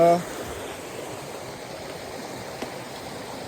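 Rushing stream water in a jungle, a steady, close broadband roar that holds evenly throughout, with a brief voice at the very start.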